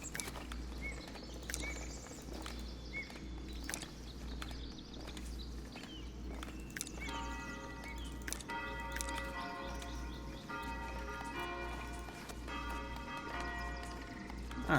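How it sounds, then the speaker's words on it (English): Church bells ring in the village-building game Foundation, sustained tolling tones entering midway and layering over a steady outdoor ambience of birdsong and occasional horse clip-clop, with a low constant hum beneath. "mess with the bell sounds a little bit"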